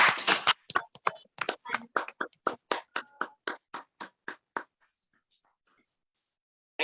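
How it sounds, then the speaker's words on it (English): Applause from an online audience at a yoga talk comes as a run of distinct, evenly spaced claps, loud and close, that slows and thins out before falling silent. "give a big round of applause for the"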